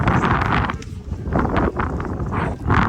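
Strong wind on an apartment rooftop, loud gusting buffets and roaring rushes against the microphone that rise and fall in waves, with no talk.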